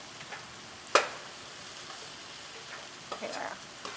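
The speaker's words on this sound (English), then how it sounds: "I'm going to stir that in too, get it nice and going" Spices being stirred into a pot of butternut squash and apple soup, a quiet, close scraping and soft sizzle with a brief sharp clink of the spoon.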